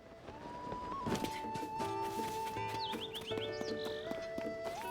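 Horse in the video game Zelda: Tears of the Kingdom, with soft clip-clop hooves and a brief whinny over game music and chimes, steady and moderately close.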